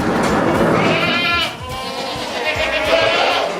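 Goats bleat loudly and close by at a 200-year-old goat farm, several wavering calls overlapping across a few seconds with faint background noise.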